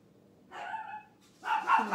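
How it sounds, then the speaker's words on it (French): A dog indoors in a kitchen gives two short bursts of barking, the first a clipped yelp and the second a louder, rougher bark a moment later, against otherwise quiet room sound. "Ça va aboyer jusqu'à pas d'heure."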